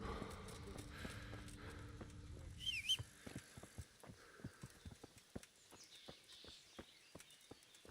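Horse hooves clopping in a medieval Bohemia video game, a soft, steady walking rhythm of distinct thuds after a brief rustle, fairly quiet and close.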